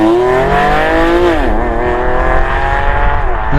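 An unmuted Porsche 911 997 GTS flat-six engine revs loudly and close, its pitch climbing, dipping sharply, then holding a steady rising drone with no voices over it.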